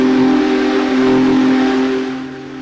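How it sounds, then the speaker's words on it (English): The Big Boy steam locomotive sounds its whistle in a loud, sustained, steady chord lasting nearly three seconds, heard close and alone, fading slightly at the end. "The other interesting thing about the steam locomotive is the whistle."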